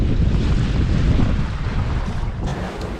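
Steady wind rushes and buffets across the microphone aboard a sailboat island-hopping north toward Dar es Salaam, with about 8 knots on the beam. The roar is loud and continuous throughout.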